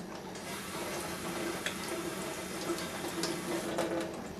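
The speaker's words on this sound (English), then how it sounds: "go over to the sink and run it under some hot water" Tap water runs steadily into a kitchen sink at moderate volume, a continuous splashing hiss with no voices.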